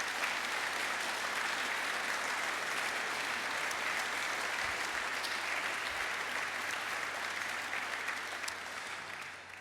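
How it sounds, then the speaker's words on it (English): Sustained applause from an audience at a trainee graduation ceremony, steady dense clapping filling the room for nearly ten seconds before easing slightly at the end, with no speech over it. "deserve a well rewarded round of applause"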